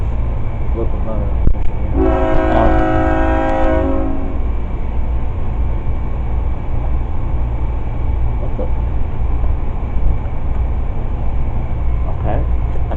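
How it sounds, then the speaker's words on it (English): An arriving train at the Florida Railroad Museum rumbles steadily nearby with a low continuous roar, and a horn sounds for about two seconds early on; faint voices are mixed in. "I think the train is here."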